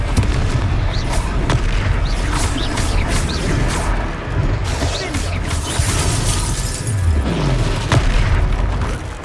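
Confringo spell explosions in the game Hogwarts Legacy during a troll fight, loud booming blasts and crashing debris layered over a dense, continuous rumble of combat effects.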